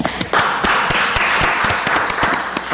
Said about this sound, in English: I think everyone in here should clap.